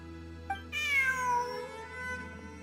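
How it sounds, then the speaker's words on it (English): A single cat gives a drawn-out, falling meow after a short chirp, clear and fairly close against a quiet steady background hum. "Look, a cat."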